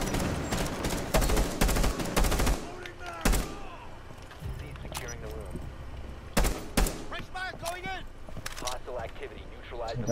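Automatic rifle spray in Rainbow Six Siege, several sharp rapid bursts of close, loud gunfire in the first seconds and again midway, with players talking excitedly between and over the shots.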